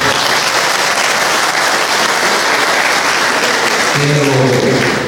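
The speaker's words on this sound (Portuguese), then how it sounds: "quero dar salva de palmas a todas as mulheres" Loud, sustained applause from a crowd at a political swearing-in ceremony in Goiás, honouring the women present, a continuous wash of clapping with no voices on top.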